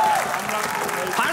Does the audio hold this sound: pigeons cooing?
no